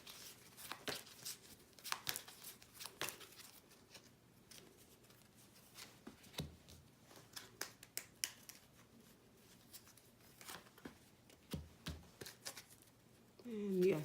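Tarot cards shuffled by hand: a quiet series of crisp flicks and soft riffling bursts, irregular and close, with brief pauses between rounds.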